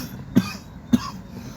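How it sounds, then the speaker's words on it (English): A person with a dry throat gives two short, sharp coughs about half a second apart, close and fairly quiet, with no talking. "the more I speak, it's like the drier my throat gets, and causing me to cough"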